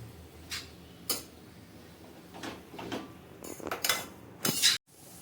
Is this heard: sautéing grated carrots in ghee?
yes